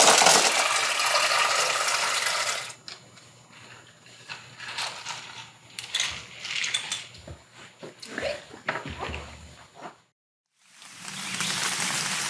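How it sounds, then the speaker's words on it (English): Ice cubes are dropped into a hiking water bag, making a series of close, irregular clinks and clatters separated by short pauses. "I usually start out by putting some ice in my water bag first"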